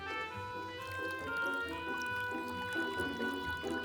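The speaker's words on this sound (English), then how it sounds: "there's not a lot of water coming down here yet, David." Water flows down a newly built garden waterfall in a continuous, steady trickle and splash, moderately loud and alone.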